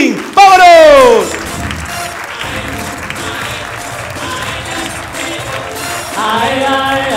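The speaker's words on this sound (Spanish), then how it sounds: "Recibamos con un fuerte aplauso al gran Juanito Pantín" Audience applause and cheering greet the comedian Juanito Panchín at a stand-up comedy show at César Manrique Cultural, a loud burst of voices and shouts first, then steady clapping from the crowd that swells again near the end.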